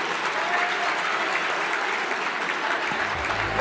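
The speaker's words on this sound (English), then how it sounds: "let's thank our envelope presenters, to give them a quick round of applause" A roomful of medical school graduates and guests at a Match Day celebration applauds their faculty envelope presenters, a steady, even wash of clapping that holds at a constant level for several seconds.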